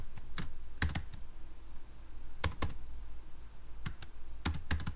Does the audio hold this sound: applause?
no